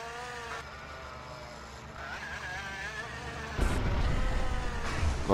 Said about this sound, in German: Gut, der Flieger ist ein bisschen lahm.